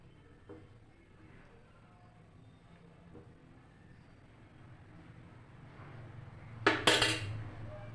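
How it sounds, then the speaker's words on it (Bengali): Khichdi (dab khichdi) stirred in a pot on low gas after the lid comes off, a quiet low rumble building to a brief burst of metallic scraping and clatter near the end. "ঢাকনাটা খুলে আবার একটু নাড়াচাড়া দিয়ে নেব"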